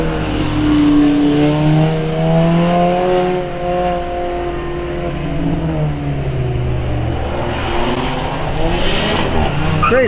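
Cars on a race track during a trackday cool-down lap at Vancouver Island Motorsport Circuit, engines humming steadily at low revs as a group follows an instructor, continuous and fairly loud for the whole stretch.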